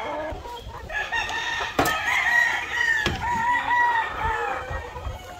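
A rooster in a backyard breeding pen crows in a long drawn-out call, near and clear, with a couple of sharp knocks and faint farmyard background.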